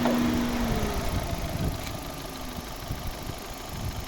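A 2010 Opel Zafira's 1.6-litre naturally aspirated petrol engine idles quietly and evenly with a low, steady hum and no voices.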